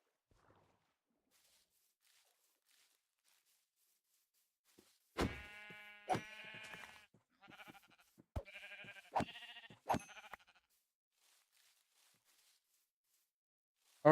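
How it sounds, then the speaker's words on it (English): Sheep in the video game Minecraft bleat several times in a close cluster of short, clear calls, alone against near silence with faint footsteps before and after. "Oh hey, another sheep."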